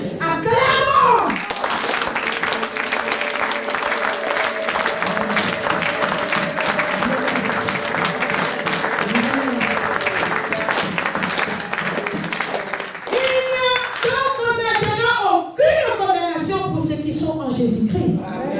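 A church congregation applauds and cheers at a thanksgiving service. Dense, steady clapping fills most of the stretch, with tonal music or voices underneath, then gives way to speaking near the end.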